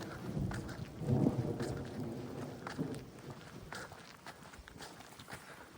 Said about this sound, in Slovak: Prší ešte.